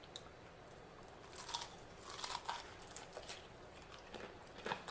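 Fried shrimp coated in ramen noodles is bitten and chewed close up, giving faint, scattered crunches over a quiet background.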